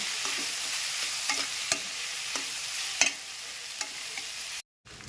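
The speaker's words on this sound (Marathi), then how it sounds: "अगदी थोडासा गरम मसाल्यावर टाकणार आहोत आपण, आणि थोडंसं लाल तिखट व्यवस्थित हलवून घेणार आहोत आपण" Garam masala and red chili powder are stirred in a pan with cooked peas, onion and tomato, a soft steady sizzle broken by several scraping spoon strokes at irregular intervals, close and quiet with no talk.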